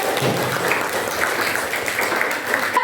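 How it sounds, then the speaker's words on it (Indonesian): A classroom of students clapping for a group of classmates, a brief, fairly light patter of hands that stays close and even for a few seconds. "tepuk tangan buat kelompok ini"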